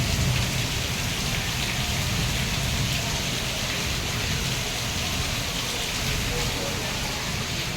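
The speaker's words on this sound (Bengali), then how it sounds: "কি পরিমাণে বৃষ্টি হচ্ছে" Heavy rain pours down on a flooded street beside an old building, making a dense, loud, unbroken hiss with faint rumbling underneath throughout.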